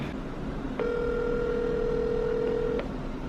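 A telephone call rings through, a single long steady ringback tone lasting about two seconds, clear and alone over a low background hiss.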